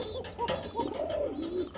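Pigeons at a pigeon market give a few soft, close cooing calls in quick succession, with faint background bird chatter.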